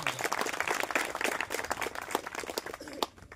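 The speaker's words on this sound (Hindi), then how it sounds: "इसके लिए जोरदार तालियां हो जाए" An audience at a student award ceremony claps in dense, continuous applause for a few seconds, then trails off sharply near the end.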